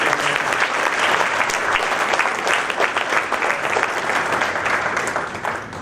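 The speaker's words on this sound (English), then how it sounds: "Let's give them a round of applause." A room full of people at a senior athletic breakfast clapping for the head coaches, steady dense applause that holds for several seconds and tapers slightly at the end.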